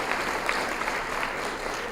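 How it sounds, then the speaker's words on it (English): An audience at a Colorado Springs youth citizenship awards event claps for a Rotary sponsor, making a short burst of steady, even applause. "You got to stand up and get a round of applause for sponsoring this incredible opportunity."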